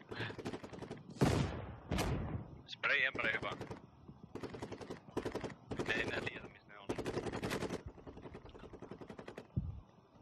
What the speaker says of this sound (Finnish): mä ammun vaan randomilla sen